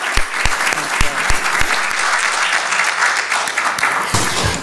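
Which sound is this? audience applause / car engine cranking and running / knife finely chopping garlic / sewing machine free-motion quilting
audience applause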